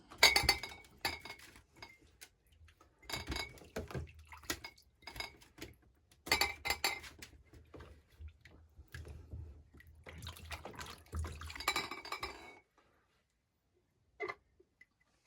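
Plums are placed into washed one-litre glass jars for plums in syrup, giving sharp clinks and knocks of fruit and glass in irregular bursts, close by, with a quiet pause near the end.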